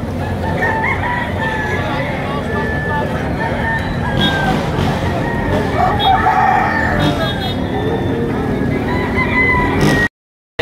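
A golden boy gamecock crows loudly amid a rooster market crowd at dawn in Padre Garcia, Batangas, with steady babble of people and other fowl clucking throughout before an abrupt cutoff.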